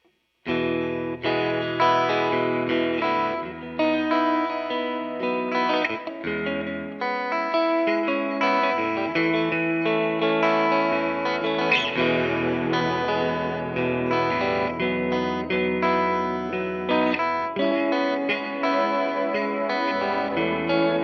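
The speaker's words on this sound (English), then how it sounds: "this will just be the hall reverb, and then also kind of put a little bit of the sustain" Electric guitar played through a pedalboard, continuous with a washy hall reverb and long sustained notes, steady and fairly loud throughout with no talking.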